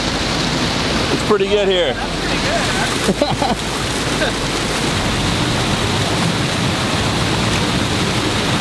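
A waterfall thunders nearby with a constant, loud broadband rush of falling water, while a person briefly speaks over it.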